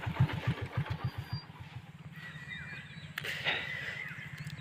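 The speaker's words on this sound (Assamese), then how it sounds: "বাইক চলাই আহি আছে" A motorcycle is ridden nearby, its engine giving a quick regular low chugging at first and then a steadier hum. Fairly faint, with no talking.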